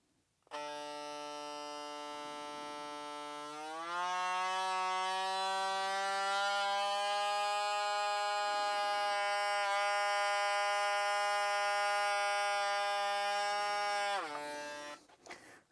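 Stylecraft hair clipper motor spinning up through bulk hair, a steady high electric whine that jumps to a higher pitch and holds loud, then cuts off near the end.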